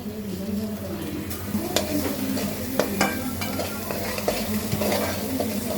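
Onion paste, ginger garlic paste and cumin stir-fry in hot oil, a continuous close sizzle broken by spatula scrapes and light clinks against the pan.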